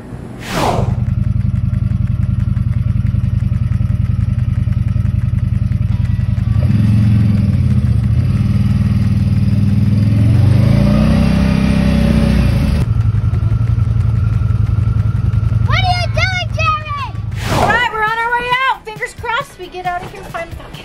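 Extra large RV hauling a long trailer of motorbikes rumbles along at a campground with a steady low engine drone and clattering bumps, followed by a sharp thump and people talking near the end.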